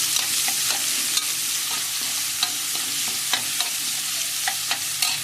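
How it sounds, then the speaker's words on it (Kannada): Onions frying in oil in a pan, a loud continuous close sizzle with light periodic taps and scrapes of a stirring spoon throughout. "ಈರುಳ್ಳಿ ಹಾಕ್ತೀನಿ ಈರುಳ್ಳಿ ಚೆನ್ನಾಗಿ ಫ್ರೈ ಆಗಲಿ"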